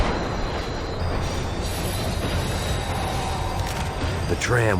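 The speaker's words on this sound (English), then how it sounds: "The tram was slowing down." Tram slowing down in the video game Max Payne 3: a steady rumbling rail roll with metallic wheel squeals and a rising screech near the end, loud and continuous throughout.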